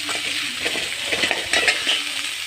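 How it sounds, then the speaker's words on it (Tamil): Tomato sautés in a pan for a beetroot egg stir-fry, giving a close, steady sizzle with repeated scraping and stirring strokes of a spoon, and no voice. "தக்காளி நல்லா வதங்கட்டும்."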